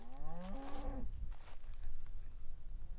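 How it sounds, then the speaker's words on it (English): Cows low loudly in a rural Kansas field, one long rising moo with clear harmonics, then fainter bovine calls over steady wind noise. "I have no idea what's going on with these cows."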